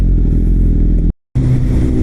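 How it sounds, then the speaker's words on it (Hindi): An inline-four superbike revs loudly and close on a scenic road, its engine note continuous apart from a brief dropout near the middle. "जो इनलाइन 4 की आवाज़ आ रही है"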